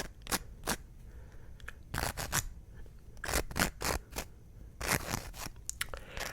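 Pen or pencil writing by hand on paper for ASMR, close and intimate: bursts of scratchy strokes in clusters separated by short pauses, with soft crackly texture and no talking.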